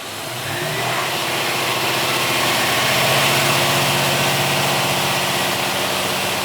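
A Daimler truck engine roars to life at a plant, swelling quickly into a loud, steady, rumbling drone that holds without pause.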